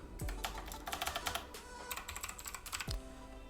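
Rapid typing on a computer keyboard fills the whole stretch, with fast, uneven bursts of close, crisp key clicks and no talk.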